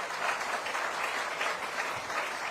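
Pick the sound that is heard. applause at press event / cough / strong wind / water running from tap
applause at press event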